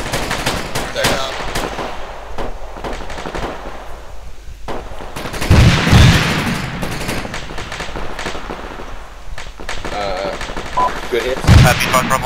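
Gunfire rattles in rapid bursts throughout an Arma 3 combat scene, with a loud, booming grenade explosion about halfway through and another heavy blast near the end.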